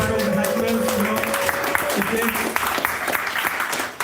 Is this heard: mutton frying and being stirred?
no